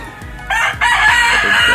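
A gamecock rooster crows loudly and close by, one strong, sustained crow after a short rising start, with no one talking over it.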